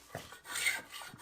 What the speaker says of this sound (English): At this stage it was really fun using the spoke shave.